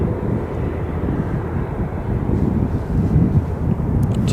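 An Embraer ERJ jet on a test flight at Aberdeen Airport gives a steady, broad engine roar with some wind buffeting, moderately loud and unbroken throughout, with no voices.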